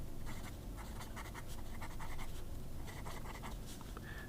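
A Moonman fountain pen nib scratching across paper in a wet, medium line, close and soft, with a steady run of short strokes and brief pauses, no talking.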